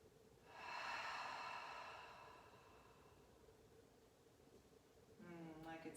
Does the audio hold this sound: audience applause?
no